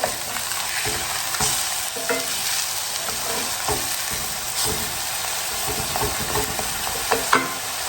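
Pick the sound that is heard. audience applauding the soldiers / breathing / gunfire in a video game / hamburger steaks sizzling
hamburger steaks sizzling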